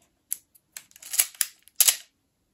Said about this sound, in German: Klingt super, der Auslöser.